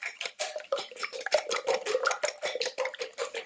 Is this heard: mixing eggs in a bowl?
yes